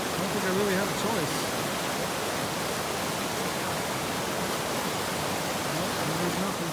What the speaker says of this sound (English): So I think I was too close to that river